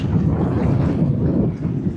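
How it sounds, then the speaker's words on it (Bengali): Steady low rumbling sea wind blowing across the microphone on Kuakata beach, loud and continuous with no pauses. "এরকম একটা বাতাস"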